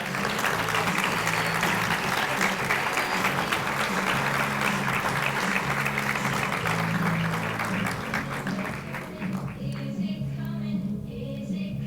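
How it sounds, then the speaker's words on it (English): Loud, sustained applause from a large audience at a school back-to-school kickoff fashion show, continuous clapping filling the whole stretch and easing slightly near the end. "let's give them a round of applause"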